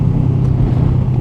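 A 2013 Kawasaki Ninja 650R motorcycle engine drones loud and close in a brief steady burst as the rider shifts down, a low rumbling thrum with no talk.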